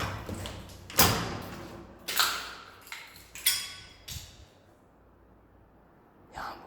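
A door in an abandoned hospital is tried several times, giving sharp knocks and rattles with short metallic decays at irregular intervals, close and fairly loud, with no talk.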